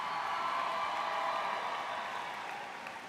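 A large crowd applauds graduates at the Akron Early College High School graduation ceremony, a continuous even roar of clapping that holds steady and then slowly fades.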